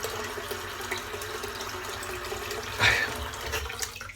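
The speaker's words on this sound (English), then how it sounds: "I'm just running a bit of cold water into the sink." Cold water runs steadily from a tap into a sink, a soft, continuous close hiss and splash, with one brief louder gush near the end.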